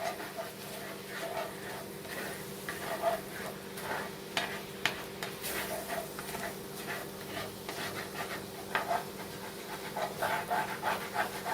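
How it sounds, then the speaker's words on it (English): Honey cranberry chicken sauce stirred in a pan with the browned drippings, a spoon scraping the bottom in irregular strokes over a faint steady sizzle, moderately close and soft. "Stir all of that in together."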